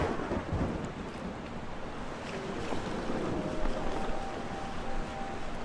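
A stormy sea in the Forgotten Seas video game brings a thunder rumble over surging waves and wind, a broad, continuous roar of moderate loudness with no voices.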